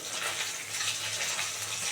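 Rui fish pieces fry in hot oil with a dense, steady hiss, close and constant for the whole stretch, with no talking.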